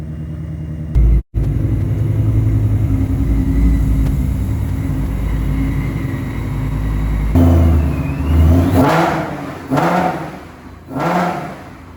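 A Mustang's engine idles with a low, steady rumble, then revs in several loud surges as the car is driven out and reversed into place, close and with no talk.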